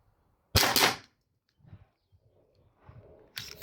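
An airsoft gas blowback pistol fires sharp, snappy reports: a loud double crack near the start and another at the very end, with faint clicks and handling between.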